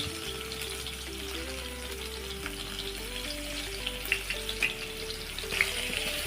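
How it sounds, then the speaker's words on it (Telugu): Coarsely crushed garlic and cumin seeds fry in oil with a continuous close sizzle, a few light stirring clicks near the end, and soft background music underneath. "ఇలా ఒకసారి బాగా కలుపుకొని వెల్లుల్లి రెడ్డుగా అయ్యే వరకు, అంటే బ్రౌన్ కలర్లో వచ్చే వరకు వేయించుకోవాలి."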